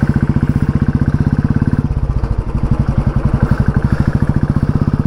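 A motorcycle engine on a Dhaka road throbs loud and close in rapid, even pulses, its beat shifting briefly midway before settling back into a steady chug.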